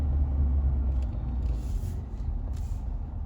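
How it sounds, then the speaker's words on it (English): Big truck rumbling close by on a property during a mowing job, a heavy low drone holding steady and loud throughout with a faint hiss rising above it. "Whoa, big truck there."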